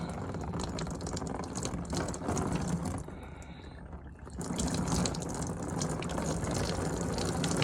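Coolant water gushes steadily out of a blown car engine with a suspected blown head gasket, a loud continuous splashing pour that briefly thins before surging back.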